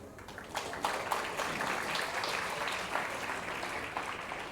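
Audience applause at a chartered accountancy exam talk, a steady crowd clapping of moderate volume that continues evenly throughout.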